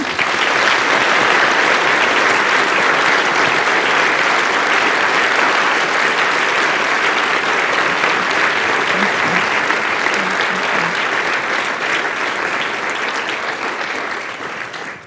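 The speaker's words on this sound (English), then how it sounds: "a round of applause again" Sustained round of applause from an evening audience at a talk on AI and human digitisation, a thick, loud, continuous roar of clapping that holds steady before tapering off at the very end.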